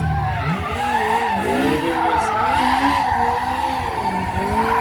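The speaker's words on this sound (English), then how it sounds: "straight into a very tight turn for the donuts, that's really tough" A stunt car at a castle stunt show spins through tight donuts, tires squealing in long wavering skids over a steady engine roar, loud and close without pause.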